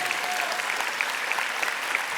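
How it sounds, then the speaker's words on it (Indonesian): Audience applause for a professor at a climate heroes award ceremony, a dense, even wash of clapping heard steadily at moderate distance, with a faint voice briefly under it. "boleh kita beri tepuk tangan yang paling meriah untuk Prof. Emil"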